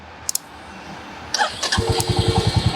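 A Royal Enfield Hunter 350 motorcycle gives two sharp clicks, then a starter whir as the engine catches into a close, loud, evenly pulsing thump that continues to the end.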